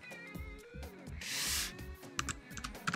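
Fingers type on a Mac computer keyboard, a quick irregular run of light close clicks with a short burst of hissing noise partway through.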